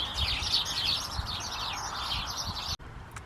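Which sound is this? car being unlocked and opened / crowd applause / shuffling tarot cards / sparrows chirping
sparrows chirping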